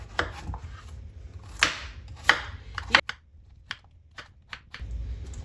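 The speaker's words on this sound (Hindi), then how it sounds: "इस तरह हम पीस कर लेंगे" Food is chopped into pieces for a chicken and potato dish, with a string of crisp, irregular knife strikes, some sharper and louder than others, close and quiet, with no talking.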